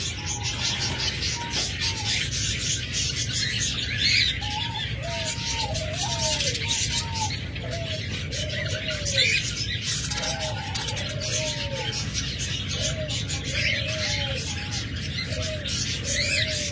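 A pair of green opaline lovebirds chirping in short repeated calls, fairly close, over a steady background hum with faint insect-like noise.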